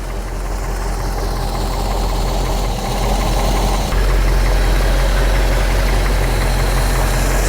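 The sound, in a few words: classic Mercedes-Benz engine starting and idling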